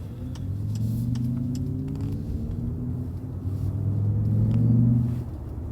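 A Xiaomi SU7 Max electric sedan plays its synthesized sport engine sound while driving, a low droning rumble whose tone rises and falls with speed, swelling louder toward the end before easing off.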